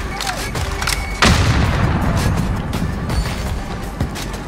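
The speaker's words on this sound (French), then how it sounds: "Je lance une grenade." Grenade blast in a Call of Duty match, a sudden heavy boom about a second in that rolls into a long rumbling tail, with dense game noise and scattered distant shots before and after.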